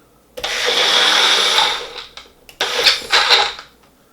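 A blender mixing homemade fake blood ingredients, a loud, close motor whir running for over a second, then two shorter pulses after a brief stop.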